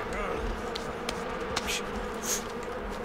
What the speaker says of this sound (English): Go away, bees.